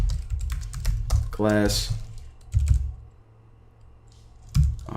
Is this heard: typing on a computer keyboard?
yes